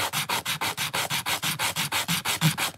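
Small wooden miniature table pieces sanded by hand with 120 grit sandpaper, a close, loud, rapid back-and-forth rasping in about fifteen even strokes, with no voices.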